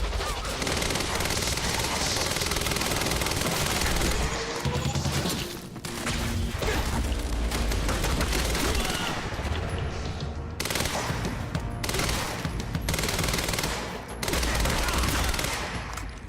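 Sustained bursts of automatic gunfire and rapid shots from weapons in the video game Quantum Break, loud and dense through most of the stretch with brief lulls and crashing impacts.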